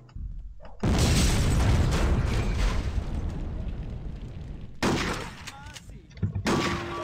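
Gunfire in the video game Hitman Codename 47, a sudden loud burst of shots and booming blasts that decays, then more sharp shots a few seconds later, voices heard between them.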